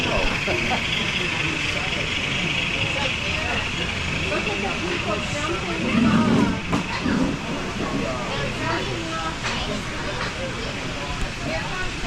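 An HO scale kit-bashed standard gauge model engine runs around a loop on a mountain in a museum layout, giving a steady light mechanical rattle and hum under continuous crowd chatter and voices.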